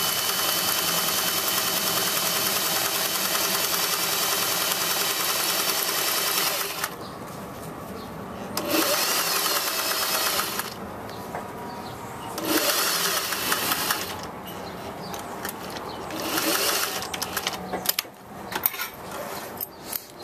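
A sewing machine runs a stay stitch end to end along a collar seam at a 5/8-inch allowance, a close, steady mechanical whir in several bursts broken by short pauses, with no talking.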